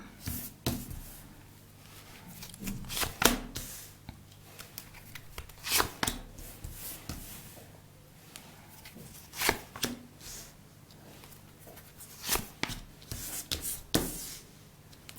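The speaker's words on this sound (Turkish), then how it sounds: "kartlarımı açarak başlıyorum" Tarot cards are shuffled and laid out on a table during a coffee and tarot reading: soft repeated slaps and riffles, some sharp card snaps at irregular intervals, fairly quiet and close with no talk.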